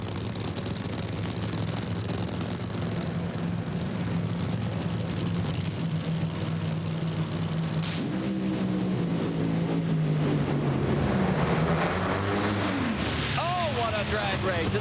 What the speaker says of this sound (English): Drag race, and the win goes to Tony Pedregon in a hole shot.